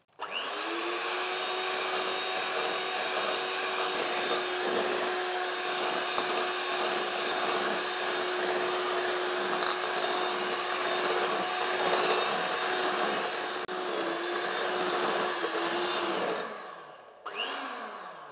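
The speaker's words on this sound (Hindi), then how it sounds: "थोड़ी थोड़ी डालेंगे और बीट करते जाएंगे" Electric hand mixer beating macaron batter as powdered sugar is added a little at a time, a steady loud whirring motor drone running continuously for about sixteen seconds before switching off, then a brief second burst.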